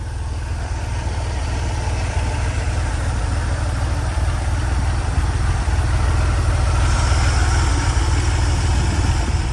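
A 1980 Porsche 911 with a modified 3.2 litre engine runs steadily, a loud, close, continuous engine rumble that rises slightly in intensity partway through, with no voices.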